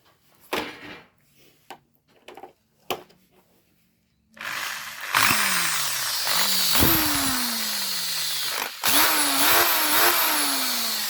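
A few sharp knocks and clatters, then a power drill with newly replaced carbon brushes whirs up loudly, cuts out briefly, and restarts, its motor pitch shifting as it runs.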